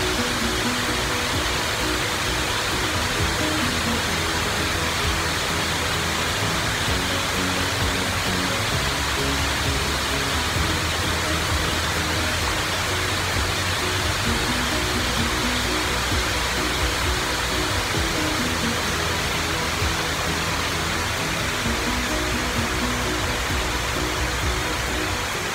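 Shiraito Falls in Fujinomiya, Shizuoka, roars as a steady, dense rush of falling water, loud and unbroken for the whole stretch with no voices over it.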